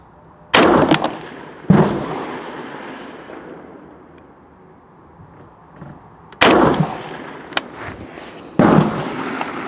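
An SA80 L85A1 5.56mm rifle fires four sharp, loud single shots at an outdoor range, spaced unevenly, each with a short echoing tail and quiet gaps between.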